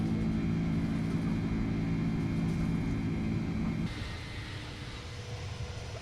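Airbus A310 jet engines on departure from Don Mueang in Microsoft Flight Simulator 2020, a loud steady roar with a low droning tone that abruptly drops to a quieter, smoother rush partway through.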